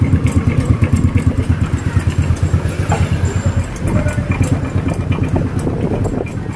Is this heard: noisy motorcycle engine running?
yes